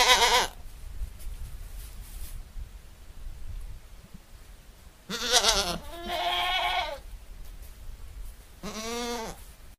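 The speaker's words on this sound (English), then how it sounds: "Kids enjoying socializing and playing with other goats." Baby goats bleat in a herd, several loud separate wavering cries, one at the start and a cluster near the middle and end, with quiet rustling in between.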